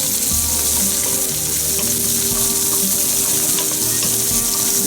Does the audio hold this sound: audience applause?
no